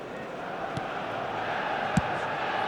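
A stadium crowd in a football video game keeps up a steady roar of cheering, with a couple of brief sharper sounds poking through the noise.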